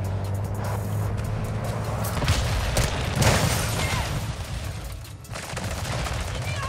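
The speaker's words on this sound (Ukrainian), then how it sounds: "І десь справа, ще зліва по мені стріляє." Gunfire crackles in the video game Call of Duty: Warzone 2.0, with rapid bursts and scattered shots over a dense battlefield din that holds steady throughout.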